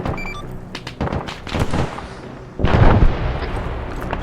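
Gunfire and heavy explosive booms in a military simulation game with an MRAP vehicle under attack on a road, a string of loud cracking shots followed by a large, rumbling blast.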